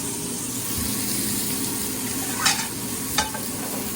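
Torta bread topped with cheese fries on a griddle, a constant close sizzle that runs steadily with two short louder scrapes or clatters near the end.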